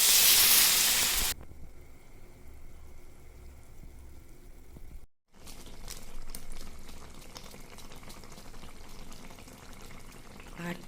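Water poured into a pan of sizzling soybean curry, a loud hiss that briefly drops away and then settles into a steady bubbling boil.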